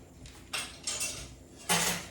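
A frying pan holding bacon is set back down on a stovetop with a few sharp metallic clanks, the loudest at the end, close by with no talking.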